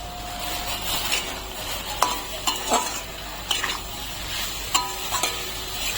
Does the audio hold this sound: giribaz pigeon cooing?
no